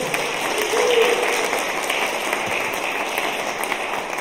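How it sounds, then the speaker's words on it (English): Congregation at Cypress Creek Christian Church applauding during a contemporary worship service, a steady wash of many hands clapping at moderate volume throughout, with faint voices mixed in. "Let's give another round of applause for Keaton"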